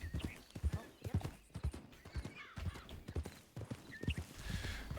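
Repeated horse hoof clops on rocks in a steady walking rhythm, in the video game Red Dead Redemption 2, with the horse snorting and whinnying, and a voice talking over it.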